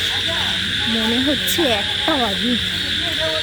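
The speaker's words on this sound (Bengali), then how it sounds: "চারিদিকে ঝিঝির ডাক" Steady high insect chirring of crickets fills a dark village night around Mayapur, a continuous even drone beneath a man's speech and some bird-like calls.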